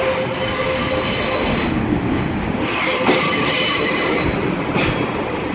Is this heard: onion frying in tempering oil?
no